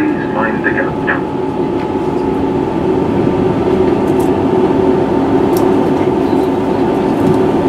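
A train runs steadily into Accrington station, a continuous rumbling rail drone with a few brief higher squeaks and clicks, heard from on board and fairly loud.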